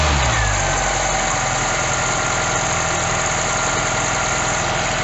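A Ford Taunus engine fitted with a Weber 32/36 DGV carburettor idles steadily and loudly up close while warming up on the choke, a continuous low rumble with a faint pulsing beat and no voices.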